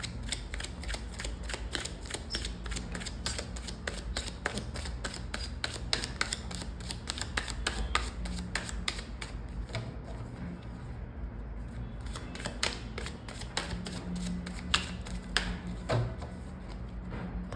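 Tarot cards shuffled by hand in a long, steady run of dense papery riffles and flicks, close and clear with no talking, a few sharper snaps standing out near the end.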